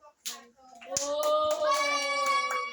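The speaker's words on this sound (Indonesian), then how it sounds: "beri tepuk tangan untuk teman kelompok" A classroom of children clapping for a group of classmates, a burst of hand claps mixed with kids' voices and chatter, fairly close and moderately loud.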